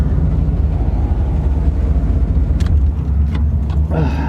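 Several cars left idling after cold starts, including a Chevrolet Impala, make a steady, loud low engine rumble that runs throughout, with a few brief higher-pitched bursts toward the end.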